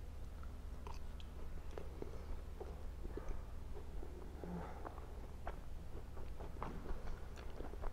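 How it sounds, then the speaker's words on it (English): Someone chews a homemade Dutch apple pie with a crumbly crust close to the microphone, giving soft, irregular wet crunches and mouth clicks over a low steady hiss, with no talking. "Now just chewing."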